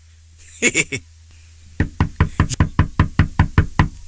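Knocking on a door, a quick burst of three raps followed after a pause by a steady run of about nine loud, evenly spaced knocks, near and sharp.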